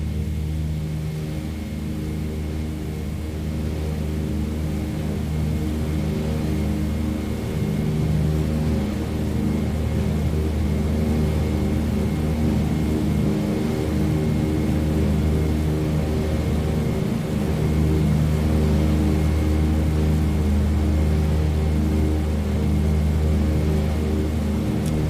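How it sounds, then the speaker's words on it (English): A simulated airliner engine drones steadily through takeoff in a flight simulator game, a dense low rumble with a faint high whine holding at even loudness throughout. "Okay, there we go. We're taking off."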